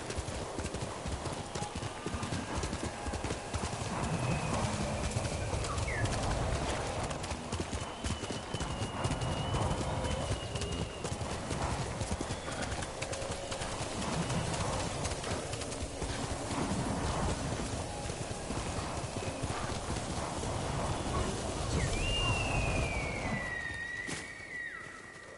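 Horse hooves clip-clop steadily across a Ghost of Tsushima battlefield on Iki Island, a continuous rhythmic trot close by over a busy game soundscape, with a brief whinny and a rising tone near the end.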